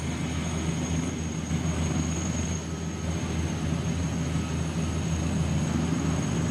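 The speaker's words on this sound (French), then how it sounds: "Franck Geloso, vous êtes toujours dans l'hélicoptère Tigre en stationnaire." Continuous loud rotor and turbine drone of a Tiger attack helicopter hovering in place, a steady low throbbing with a high whine running throughout.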